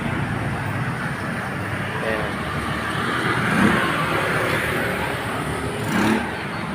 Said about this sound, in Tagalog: Dami dumadaan dito sa tricycle.